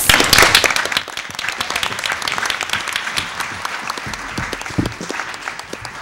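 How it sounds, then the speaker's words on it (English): Round of applause at a Board of Education regular meeting, clapping bursts loud at the start, then settles into steadier, thinner clapping that tapers off toward the end. "Can we give them a round of applause?"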